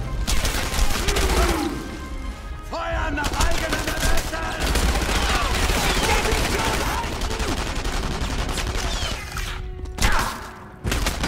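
Sustained gunfire from the World War II shooter game Enemy Front, dense automatic bursts and booming shots running loud and nearly continuous, with scattered thuds and mechanical clatter in the mix.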